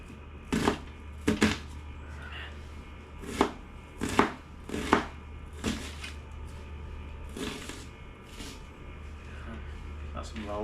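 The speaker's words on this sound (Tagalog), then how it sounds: "Malaki naman ito sibuyas natin mga kabady. Hatiin po natin para magamit pa natin sa susunod yung kalahati." Kitchen knife cutting a large onion in half on a cutting board: a series of sharp, distinct chops in irregular clusters, close and crisp, with a person talking between the cuts.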